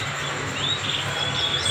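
A canary kept for song competition trills faint, high thin notes over a steady background hiss in a short stretch with no talking.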